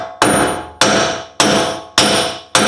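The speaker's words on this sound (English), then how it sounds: "then you can use a metal hammer" Five sharp metal hammer blows strike an axle nut during a passenger-side wheel hub replacement on a Chevrolet Colorado or GMC Canyon. The hits land at an even rhythm, each loud and close, with a ringing decay.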